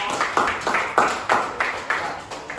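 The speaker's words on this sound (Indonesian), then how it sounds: "tepuk tangan untuk kelompok" Classmates clap for a student group in a school classroom, a short run of roughly nine distinct, fairly loud claps in an uneven rhythm, close by and without talk.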